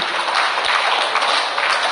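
An audience at a gathering breaks into steady, loud applause, a dense crackle of many hands clapping at once with no pauses.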